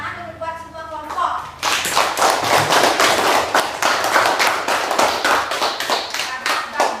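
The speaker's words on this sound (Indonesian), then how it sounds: "Sekarang tepuk tangan untuk buat semua kelompok." Schoolchildren in a classroom clap together for all the presentation groups, loud rhythmic collective clapping bursting in right after a teacher's voice and continuing steadily.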